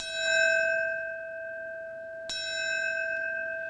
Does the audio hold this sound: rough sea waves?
no